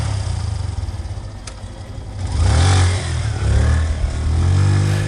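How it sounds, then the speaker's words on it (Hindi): Motorcycle engine at night, a low throbbing idle that swells into a louder revving rumble midway and stays close and strong to the end, with no voices. "हेडलाइट की चमक और इंजन की गड़गड़ाहट ने माहौल बदल दिया"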